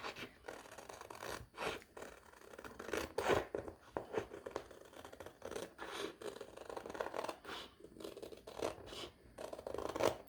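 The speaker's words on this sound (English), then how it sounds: "you can go and cut this bit off. So you're just going to cut right to the black." Scissors snip and scrape along a straight edge while a printed laundry sign is trimmed, giving a close, irregular run of cutting and rubbing sounds with brief pauses between strokes.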